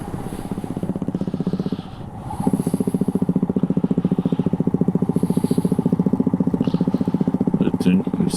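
Motorcycle riding a mountain road in the evening between Pelling and Gangtok, its engine thumping in a fast steady pulse that briefly dips then returns stronger, loud and close under wind.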